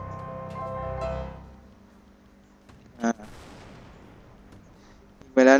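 Tank cannon shots in the game Total Tank Simulator fire twice, sharp loud booms spaced a couple of seconds apart, after a drawn-out droning engine tone, with a voice briefly heard.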